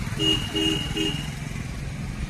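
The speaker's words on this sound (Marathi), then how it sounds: "वाजवा हॉर्न." A car horn sounds in three short beeps in quick succession during a driving lesson, close and fairly loud over the low rumble of the engine.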